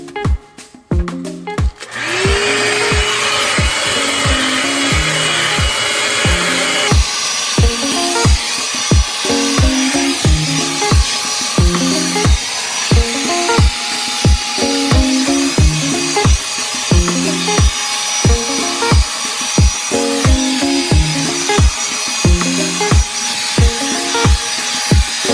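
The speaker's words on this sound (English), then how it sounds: "you can either blow dry it forward or back, whichever seems easier for you" A hair dryer blows on hair with a loud, steady whooshing roar that runs unbroken throughout, and a regular rhythmic beat pulses underneath it.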